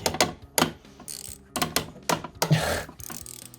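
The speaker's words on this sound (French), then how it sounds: "Ah le cliquet." A ratchet wrench clicks in several bursts of pawl ratcheting while loosening spark plugs on a Renault Twingo 1.2 16v, close and fairly loud, with no talking.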